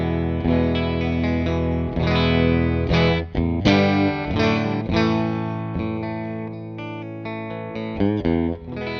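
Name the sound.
Stratocaster bridge pickup clean tone through Mesa Boogie Lonestar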